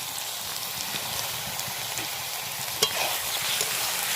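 Chicken sautéing with onion, ginger and garlic in a pan over low heat: a dense, even sizzle close up, with soft stirring and one sharp clink of a utensil partway through, no voices.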